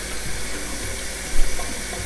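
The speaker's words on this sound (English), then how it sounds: "So I'll just add a bit of water." Water is poured into a pan of egg curry being cooked at home, a steady splashing stream that runs loud and continuous for a couple of seconds with no talking.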